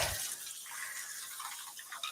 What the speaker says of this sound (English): So I just need to rinse them again really quick